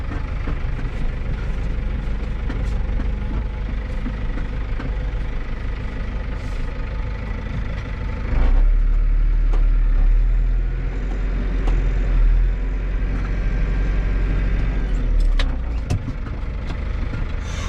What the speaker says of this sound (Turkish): Çok aşırı dönüyor traktör.